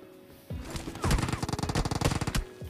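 Rapid bursts of automatic gunfire in PUBG Mobile on the Livik map, a few quiet shots giving way to a dense, loud stream of repeated rounds that runs nearly to the end.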